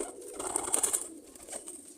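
Old-bloodline pigeons in a Multan loft give soft, low cooing, a brief close murmur rising and fading with a faint high background tone.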